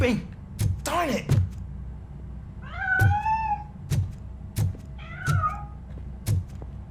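A cat meows in the video game Robocop: Rogue City, several distinct meows spread across the clip, with heavy footsteps or thuds thumping at a regular pace underneath.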